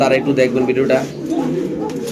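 Fancy pigeons cooing in a loft, soft repeated low coos mixed under someone talking nearby.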